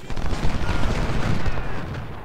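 Video-game gunfire as infantry shoot at skirmishers in Ultimate General: Civil War, a dense crackling volley of overlapping rifle shots with low booms mixed in, loud and sustained.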